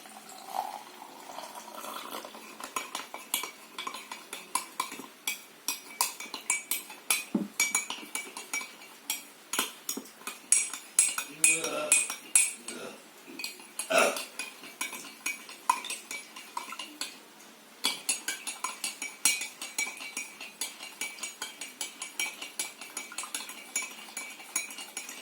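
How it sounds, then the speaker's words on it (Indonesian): A spoon stirs flour and water in a glass, producing rapid irregular metallic clinks and scrapes against the glass with soft liquid swishing, close and fairly quiet. "Lalu campur dengan air dan aduk hingga rata"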